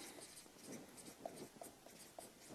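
A hand writes out a complex-number math problem in a quiet room, giving faint scratchy strokes spread across the moment, soft and close with no voices.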